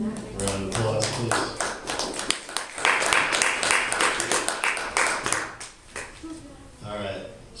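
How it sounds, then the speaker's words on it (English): An audience at a book discussion and poetry reading claps in a lively round of applause that swells and then thins out into scattered claps, with a voice heard at the start and end. "Round of applause, please."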